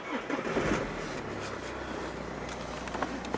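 A 2.0-litre BMW 3 Series 320d Sport Plus Edition diesel cranks and fires with a short surge. It then settles into a steady, low idle that stays close and constant.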